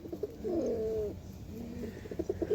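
A big Kaldoma pigeon from Allahabad and Benares coos close by in soft, rolling low calls, repeated a few times with brief pauses.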